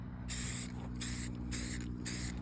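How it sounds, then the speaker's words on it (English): Four short, even bursts of spray paint hissing from a can in a steady rhythm, close up over a low hum. "you get really bad overspray is when you spray paint from back here"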